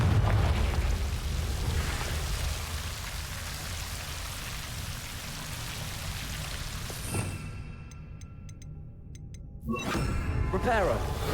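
A Confringo spell explosion in Hogwarts Legacy, a loud crackling blast that fades into a near-silent gap before a second sharp burst near the end.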